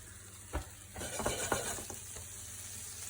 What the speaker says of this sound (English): Drop in your fresh kale and spinach.